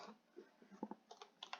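Someone types an email address on a computer keyboard: quiet, close key clicks in quick irregular bursts over about a second and a half, with no talking.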